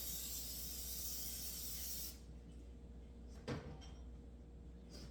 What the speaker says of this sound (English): I usually just use a container of Pam and just spray it real good all around